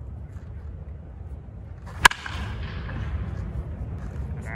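A European beechwood baseball bat cracks against a ball once, a single sharp, loud impact near the middle, set over steady outdoor background noise.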